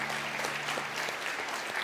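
Steady applause from a church congregation fills the space, a dense wash of clapping without pause and no clear speech over it.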